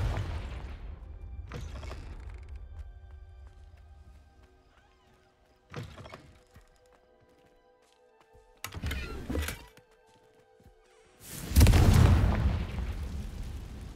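The Confringo blasting spell goes off in the Hogwarts Legacy game, with a few short thuds spaced apart and then one louder, booming blast that rings out over a quiet room.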